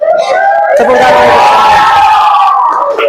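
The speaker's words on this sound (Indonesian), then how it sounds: "Tepuk tangan." A classroom crowd erupts in loud, sustained cheering and yelling with clapping, many voices shouting together close by for about three seconds.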